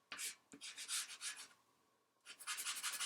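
Charcoal rubbing across paper while shading a shadow on a drawn box flap, several quick back-and-forth scratchy strokes, a short pause, then another run of brisk strokes, close and fairly quiet.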